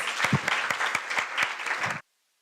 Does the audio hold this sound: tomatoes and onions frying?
no